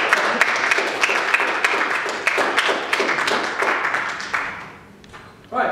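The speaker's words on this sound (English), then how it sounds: "I'd like a warm round of applause" Warm applause from an audience welcoming a speaker to the stage, dense, even clapping from many hands that holds steady and then fades out near the end.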